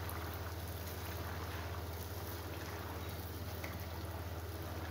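Puris frying in hot, boiling oil over a high flame give off a steady, close, continuous sizzling hiss with no pauses or talk.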